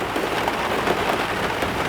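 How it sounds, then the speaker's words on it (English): Steady rain patters on a caravan roof, a dense, even hiss of drops that stays constant and fairly loud throughout, with no voices. "Still hoping that the rain will have a break"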